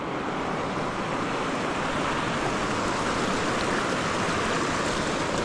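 River water flowing hard at a crossing on a Mount Negron trail, a continuous close rushing roar that holds steady throughout with no voices.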